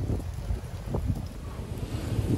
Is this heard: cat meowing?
no